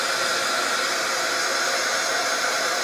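A heat embossing tool that runs weakly and barely gets hot blows air over embossing powder: a continuous, even hairdryer-like rush of airflow with no pauses.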